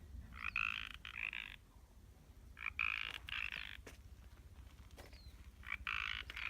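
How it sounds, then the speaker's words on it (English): Frogs croak in three loud bursts from a swampy, clay-bottomed pond on a ranch, each chorus of rapid calls lasting about a second with quieter outdoor ambience in between. "And the frogs back."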